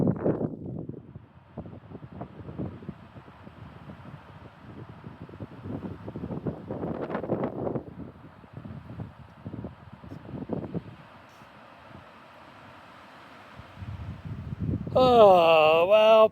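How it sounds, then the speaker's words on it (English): Strong, steady wind buffets the microphone on an exposed hiking trail, rising and falling in loud gusts, with a spoken voice heard briefly over it. "Once again, the wind non-stop."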